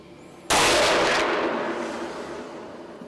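A single rifle shot fired while hunting in a Louisiana swamp: a sudden loud crack after quiet, followed by a long rolling echo that fades over a few seconds.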